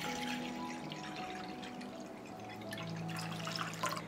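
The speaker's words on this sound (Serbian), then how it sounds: "U činiju sipam 1 litar tople vode." About a litre of warm water is poured into a bowl, making a quiet, close trickle with small drips and splashes.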